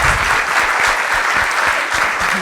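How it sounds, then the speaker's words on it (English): A lecture audience gives a steady round of applause for marine scientist Drew Harvell, a dense wash of many hands clapping at once that stays loud and even throughout. "Let's give a round of applause for Drew Harvell and her wonderful work"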